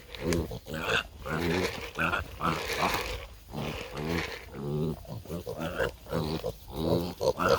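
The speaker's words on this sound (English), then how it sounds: "Come on, pigs." Farm pigs grunt and squeal in rapid, loud, close bursts, overlapping one another while a person talks nearby.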